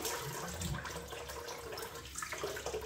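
Water runs from a tap into a bathroom sink while someone rinses their face, making a soft, steady splashing that stays quiet throughout.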